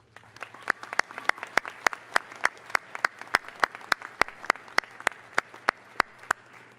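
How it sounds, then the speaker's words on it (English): Audience applause at a spring university commencement ceremony, heard as sparse, evenly spaced sharp claps ringing out in a large hall, fairly close and distinct, with no voices. "please give the parents, families, and friends gathered here today a round of applause"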